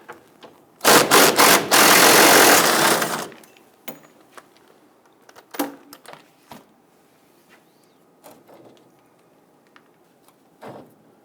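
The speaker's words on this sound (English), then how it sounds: "I'm going to use our extension with our 17mm. Get to remove that nut." A loud, rapid ratchet with an extension and 17mm socket spins off a fuel tank strap nut under a 2000-2006 Toyota Tundra, followed by scattered metallic clicks and clunks.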